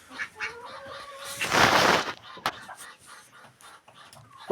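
A rooster crows and clucks among other poultry, including ducks, in a backyard flock; a loud, bright crow swells in the middle amid scattered clucks and rustling, with no talk.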